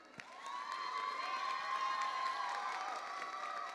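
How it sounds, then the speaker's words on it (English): Crowd at a Unitech summer 2022 graduation ceremony giving a round of applause mixed with cheers and shouts, steady and moderately distant throughout, with a sustained tonal whistle or cheer riding over the clapping. "All right, give a round of applause."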